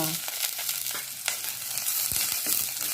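Curry leaves, mustard seeds and spices crackle and sizzle in hot oil for rasam, a brisk close-up frying hiss broken by sharp pops, with no voices.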